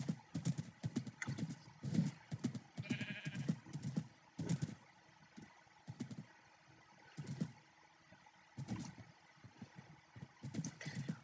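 A horse in the Minecraft video game trots with a steady, rapid clip-clop of hooves, broken by a brief whinny, close and fairly quiet, with short pauses between runs of steps.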